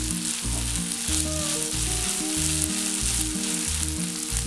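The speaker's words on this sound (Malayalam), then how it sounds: "ഇതൊരു 5 മിനിറ്റ് നേരത്തേക്ക് ഇതുപോലെ ഒന്ന് എണ്ണയിൽ ഫ്രൈ ചെയ്തെടുക്കണം." Soaked sabudana frying in oil in a pan, giving a steady, close hiss and sizzle with soft stirring, with no talking.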